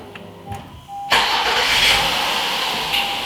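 An Acura TLX engine starts after a quiet moment with a faint click, catching abruptly with a loud rush, then settling into a steady, close idle.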